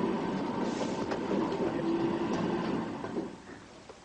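A train bound for Heathrow's new terminal rumbles steadily from inside the carriage, a continuous low roar with faint rattles that eases off near the end.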